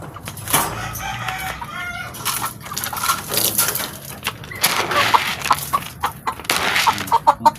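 Pet chickens cluck busily while being fed, close and loud, with overlapping clucks, scratchy rustling and an occasional rooster-like call over a steady outdoor background.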